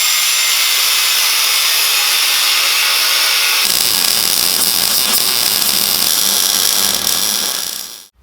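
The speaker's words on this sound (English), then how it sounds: "So now I got to cut these little ears off where the brake used to mount" A power tool grinds steadily through metal ears on the swing arm of a Predator 212 mini chopper, a loud continuous cut that shifts in tone partway through and then stops.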